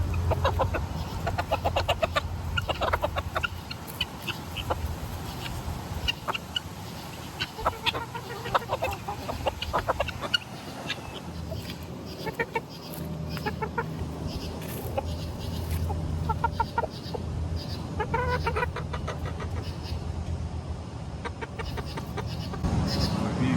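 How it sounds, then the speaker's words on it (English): Several backyard chickens cluck and chatter close by as they peck at treats of zucchini leaves, basil and marigolds, the busy flock noise running steadily over a low outdoor rumble. "Hey, chickie chicks. I have a whole basket of yummies for you."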